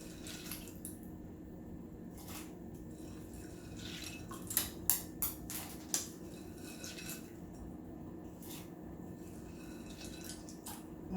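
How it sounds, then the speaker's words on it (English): Water bubbles and simmers steadily in a pot with red beans, with a few light clinks of utensils partway through. "So we got our water boiling here"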